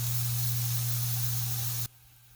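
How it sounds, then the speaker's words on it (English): Cauliflower rice seasoned with black pepper, lime juice and salt sautéing in a pan over medium-high heat, a steady loud hiss with a low hum underneath that cuts off abruptly near the end. "we're just going to saute this over medium-high heat"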